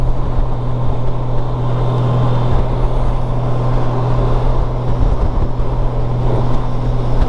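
A Honda Gold Wing motorcycle cruising at about 2,500 rpm and 120 km/h makes a steady, even engine hum under constant wind rush. The drone is loud and unbroken throughout.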